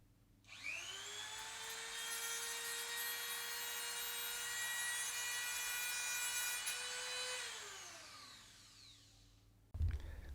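A high-pitched Dremel rotary tool whines steadily for several seconds with a rising then falling pitch, grinding close by to clearance a forged D16 engine, then cuts off abruptly.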